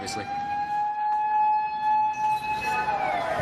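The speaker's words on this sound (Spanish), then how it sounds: "Esta grabación recoge el momento después de que sonaran las sirenas." Tsunami warning sirens in a Japanese city after an earthquake, wailing as a steady tone that holds loud for three seconds before sliding down in pitch.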